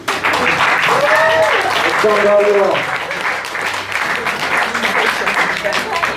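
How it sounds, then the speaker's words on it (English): Steady applause from an audience fills the whole stretch, with someone speaking briefly over the clapping. "Round of applause"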